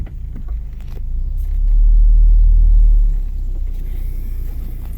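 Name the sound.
Ford Focus car driving on test drive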